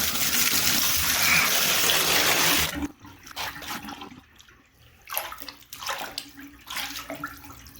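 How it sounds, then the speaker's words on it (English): Water gushes loudly from a bathtub spout for a few seconds, then stops, leaving gurgling and sloshing as it drains from the tub. "that looks like it's draining pretty good"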